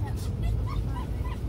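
A Belgian Malinois shepherd guard dog barks in short, rough yips over a constant low background rumble, moderately close.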